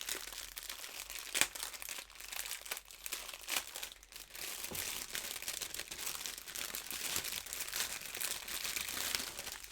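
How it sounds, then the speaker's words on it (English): Crinkling of a plastic bag of beads, close and continuous, with irregular crackles and rustles that rise and fall for the whole stretch. "Sorry again for the crinkling."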